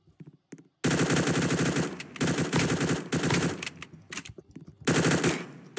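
Rapid machine gun bursts from a Counter-Strike: Global Offensive gun game match ring out loud and close, several long sustained volleys broken by short pauses, with no voices over the firing.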